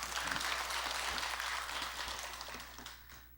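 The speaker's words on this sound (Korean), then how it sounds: "조계사의 법회오니까 박수도 쳐주시고" An audience at a Sunday Dharma assembly in a Buddhist temple claps, a soft, moderately distant ovation that gradually fades toward the end.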